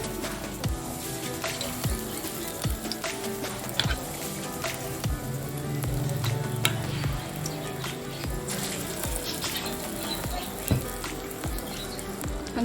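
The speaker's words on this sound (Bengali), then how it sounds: "এখন এই চিকেনগুলো ভেজে নিতে হবে।" Spiced chicken pieces frying in hot oil in a pan, a dense, even crackle and popping sizzle running throughout, with occasional sharper spits and clicks.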